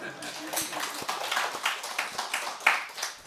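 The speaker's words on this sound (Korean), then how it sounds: "우리 같이 박수 한번 칩시다." A church congregation claps together in a short burst of sharp, uneven claps at moderate loudness, mixed with talk from the room.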